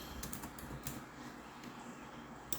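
Fingers type a city name on a computer keyboard, a quick run of light, close key clicks in short bursts with brief pauses, ending in a sharper tap.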